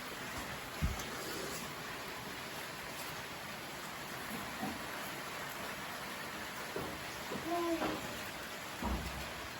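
Steady rain hissing outdoors in a village in Samahni valley, Azad Kashmir, with a few scattered drips and thumps and a faint distant rumble beneath.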